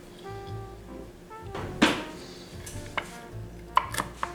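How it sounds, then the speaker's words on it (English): A knife chopping pecan pieces on a board in a home kitchen, heard as a few sparse, sharp taps and knocks, close but modest in level over a steady low hum, with no voices. "And we're going to chop up some pecans"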